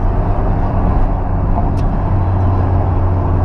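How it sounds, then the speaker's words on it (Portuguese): Exhaust of a VW Gol quadrado decelerating and downshifting on a highway, a low steady rumble mixed with road and wind noise, continuous and fairly loud throughout. "Olha que barulhinho gostoso do escapamento."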